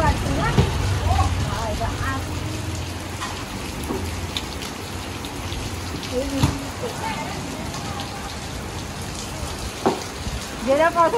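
Unseasonal rain falling steadily outdoors, a dense continuous patter on surfaces close by, with people talking over it and occasional louder knocks and splashes.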